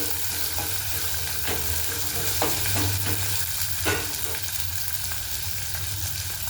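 Onion and green chilli fry in a pan of oil for upma, giving a steady close sizzle with periodic spatula scrapes and small crackling pops.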